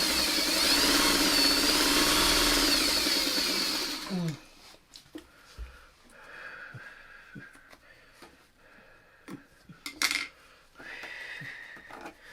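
Sewing machine sewing pre-cut quilt strips for a tulip block, a loud steady mechanical whir for about four seconds, then stopping and giving way to quiet handling clatter and clicks.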